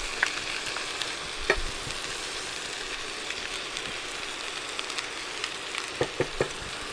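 Chicken fried rice sizzles in a hot pan as sauce is added: a continuous soft crackle with a few sharp clicks and taps of a utensil near the end, and no speech.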